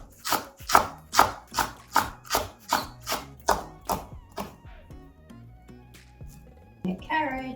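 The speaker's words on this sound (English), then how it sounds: "We will just chop it into very small pieces." Knife chopping scallions and vegetables into very small pieces for a pan-fried stuffed perilla leaf pancake, a steady run of about a dozen sharp, close taps on a cutting board that slow and fade before a clatter at the end.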